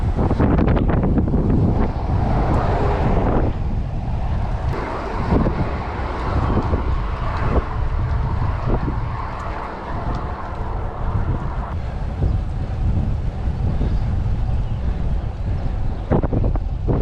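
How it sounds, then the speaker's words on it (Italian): Strong wind buffets the microphone during a bike ride near Trieste, a loud, continuous roaring gust noise with occasional knocks and rattles throughout. "troppo vento"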